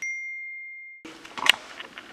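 A single mobile phone notification ding rings out clearly, a sustained tone that slowly decays over about a second, then cuts off into a burst of background clatter and noise.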